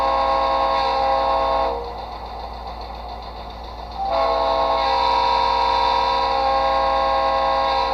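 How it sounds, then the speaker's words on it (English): A quill whistle plays through a small speaker from an HO scale model locomotive sound decoder: two sustained harmonic blasts separated by a short quieter gap, loud and close. "Here's the quill whistle."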